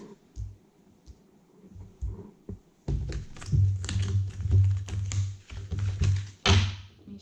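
Tarot cards are shuffled by hand in a few light riffles at first, then a busier run of dense clicks, taps and soft thumps as the deck is worked over, close and alone with no talking.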